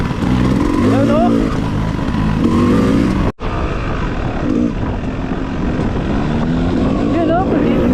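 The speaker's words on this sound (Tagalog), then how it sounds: "naririnig ko na umiiyak yung motor mo" A motorcycle engine strains and whines steadily on an off-road trail, its note rising and falling under continuous talk from riders nearby, with a brief drop-out midway.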